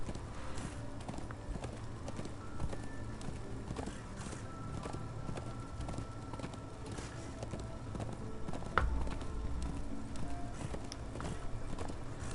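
Steady hoofbeats of a horse in the video game Darksiders 2 Deathinitive Edition clip-clop at a walking pace over a low, constant background hum, with one sharp knock near the end.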